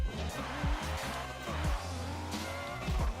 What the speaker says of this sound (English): look how much faster we accelerate. I mean, you guys you can hear it in the engine